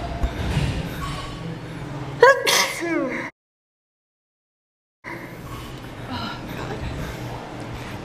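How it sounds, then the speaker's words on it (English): A woman sneezes once, sharp and close, in a gym after birthday squats, with talk and room noise around it before a gap of silence. "But I gotta sneeze."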